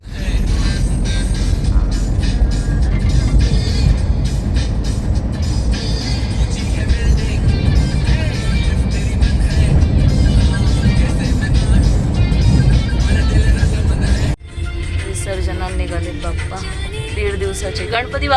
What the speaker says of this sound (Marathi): त्यांना ड्रायव्हिंग करताना त्रास होतो मी जर पुढे झोपली तर त्याच्यामुळे मग मी मागेच बसले वीरासोबत